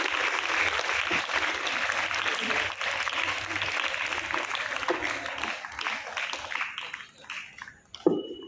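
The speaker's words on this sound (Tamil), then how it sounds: "மாணவர்கள் கரகோஷம் எடுத்து அவர்களை வாழ்க்குமாறு அன்புடன் கேட்டுக்கொள்கிறேன்." Students clap at a school Independence Day celebration, a broad round of applause that runs steadily, then thins and fades toward the end as a few scattered claps and a knock remain.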